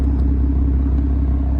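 Steady low exhaust hum from a 2015 BMW M4 3.0 DCT fitted with the M Performance exhaust, idling close by with an even, unbroken drone and no voices.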